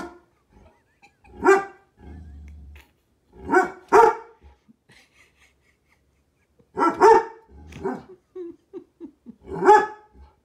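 A dog barks in several sharp, harmonic bursts spaced a few seconds apart, close and fairly loud, with low thumps of a foot stomping between barks and faint whimpering sounds; no one talks.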